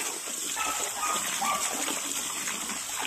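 Clothes washed by hand in a basin of water with natural soapnut cleaner slosh and splash continuously at close range.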